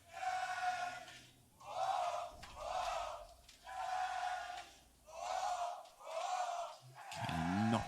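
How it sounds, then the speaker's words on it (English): Esports arena crowd at the ESL Pro League Season 9 Finals chanting in rhythmic, repeated swells, six or seven loud surging shouts separated by brief dips, rising together as one roaring mass. "the crowd are absolutely behind him right now"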